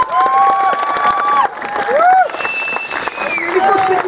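An audience applauds with scattered claps under loud shouting and cheering voices, fairly close and lively throughout.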